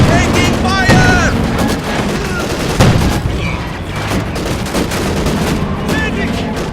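Gunfire in the video game Company of Heroes 2, a dense, loud fusillade of rifle and machine gun shots rattling continuously while soldiers' voices shout over the battle.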